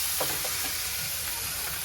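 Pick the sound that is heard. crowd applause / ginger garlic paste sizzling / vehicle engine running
ginger garlic paste sizzling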